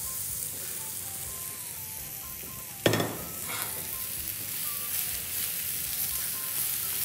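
Carrot, spring onion and Chinese cabbage stir-frying in an ordinary pan standing in for a wok, a steady close sizzle with a sharp burst of crackle as the vegetables hit the hot oil midway.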